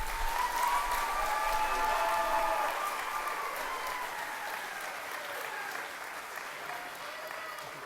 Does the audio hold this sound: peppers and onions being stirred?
no